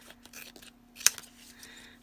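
Scissors trimming paper at a craft table while making a card, with a few light snips and rustles and one sharp, bright cut in the middle, close and quiet over a faint steady hum.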